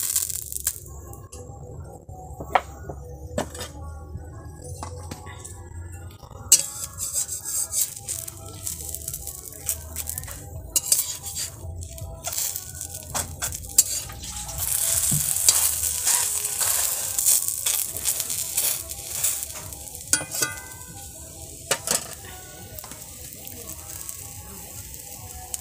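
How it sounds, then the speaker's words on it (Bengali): Patishapta pancakes filled with grated coconut cooking in a pan over a village kitchen fire, a soft continuous sizzle with scattered clicks and rattles of utensils, fairly faint and close. "এই যে নারকেল কোড়া দিয়ে পাটিসাপটা বানানো হচ্ছে"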